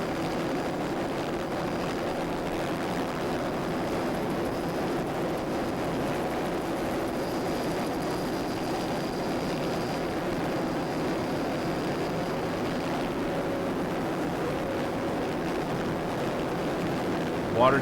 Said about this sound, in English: A lot of attrition today, but a lot of boats really running strong in this rough water